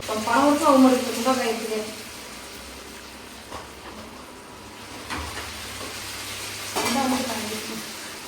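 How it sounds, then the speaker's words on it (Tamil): Steady frying sizzle of liver in a pan with occasional stirring clinks, while a person talks in Tamil at the start and again near the end. "இப்போ வந்து நான் ஈரல் வந்து ட்ரை பண்ண போகிறேன்"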